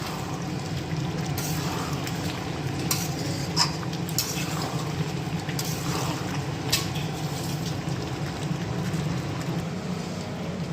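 Meat curry being stirred in a cooking pot with a spoon, giving scattered scraping clinks over a steady low simmering hiss throughout.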